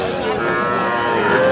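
Young Sahiwal calf, about three months old, mooing at a cattle market: one loud, close, drawn-out moo with a harmonic tone.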